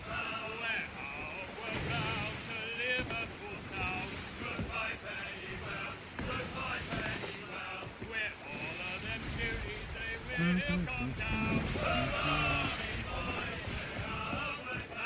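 Solo sailing ship at sea in Sea of Thieves, a steady wash of wind and water with game music running continuously across the whole span.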